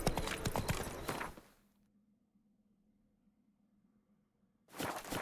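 Hooves of Roach, the horse in The Witcher 3, clip-clopping in a quick close burst, then near silence with a faint low hum, before the hoofbeats return.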